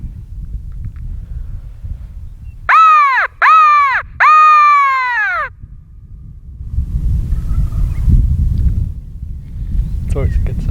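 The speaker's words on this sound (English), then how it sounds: "Right off the bat, we hear 3 gobbles down in the valley below" Wild Merriam's turkey toms gobble three times in quick succession from a valley below, clear and strong over steady wind noise, followed by faint outdoor rustling.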